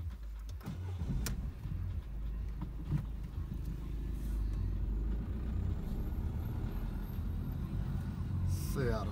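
A French-made car's engine drones steadily from inside the cabin during a test drive, a continuous low rumble with road noise and a few faint clicks.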